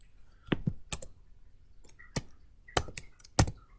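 Someone taps out a keyboard shortcut on a computer keyboard, producing a handful of crisp, irregularly spaced key clicks in an otherwise quiet room, close and clear.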